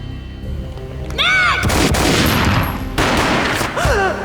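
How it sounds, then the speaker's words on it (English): A loud, booming gunshot cracks out in Max Payne, followed by a long sustained blast and a second burst, with whooshing effects in a dense game-like mix. "A gunshot boomed and she fell down in slow motion."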